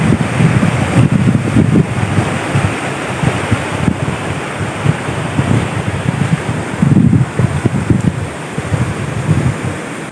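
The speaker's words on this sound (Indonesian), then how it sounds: "Bawahnya ada sungai." A river flows beneath a bridge at a shrine site, a continuous rushing wash of water with gusts of wind noise over it, steady and fairly loud throughout.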